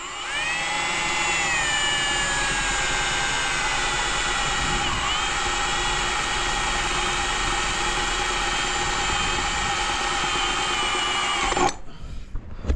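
An electric drill bores a 4.5mm hole in an aluminium boat, running at a steady high whine for several seconds, close and loud, then cuts off abruptly near the end.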